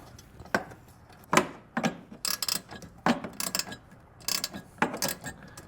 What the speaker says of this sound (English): So I might be able to stick a wrench on the backside here, see if I can break it loose